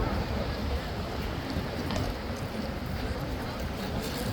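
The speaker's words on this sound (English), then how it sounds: "It's still super windy like it was this morning." Strong wind buffets the microphone in a steady, loud roar, gusting slightly over an open outdoor space with faint background noise.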